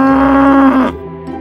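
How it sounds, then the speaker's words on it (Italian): A cow moos once in a long, loud, steady low call that fades into a quieter tail, with no other sounds around it. "Vacca."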